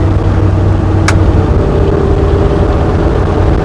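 A rusty 360 engine runs in third gear with a steady, loud, low drone, broken by one short sharp click partway through.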